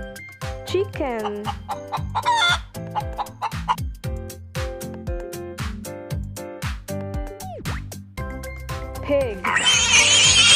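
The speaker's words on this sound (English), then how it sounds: "Chicken." Chickens cluck in quick, choppy bursts over upbeat rhythmic background music, followed later by a louder, noisier burst near the end.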